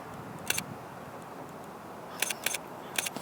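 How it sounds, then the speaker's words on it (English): A few soft, crisp mirrorless camera shutter clicks from an Olympus OM-D E-M5 Mark II, one single then a quick cluster of three, quiet and close over a faint background hiss. "the shutter is also super quiet compared to its predecessor"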